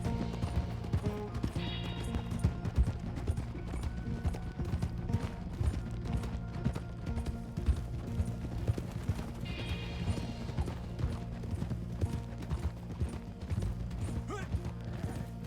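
Horse hooves clip-clop at a steady trot in Red Dead Redemption 2, a continuous rhythmic clatter with occasional faint tack and creaking sounds, and no talk over it.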